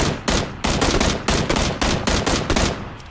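Rapid automatic gunfire in the PUBG Battlegrounds video game, a loud, continuous burst of closely spaced shots lasting the whole few seconds with no talk.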